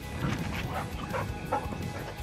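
A dog gives a few quiet, short yips and barks, fairly faint and scattered over a couple of seconds.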